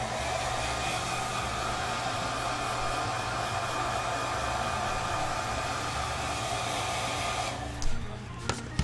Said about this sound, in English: Again, we can hair dry it.